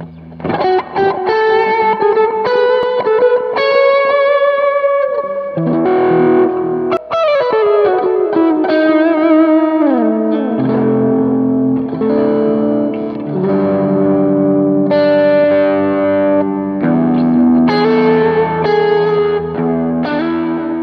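Electric guitar through a Joyo Vintage Overdrive pedal playing a solo line, sustained bent notes and runs with a warm, gritty crunch, continuous and up close.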